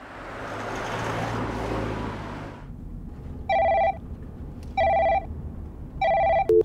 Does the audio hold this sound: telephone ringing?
yes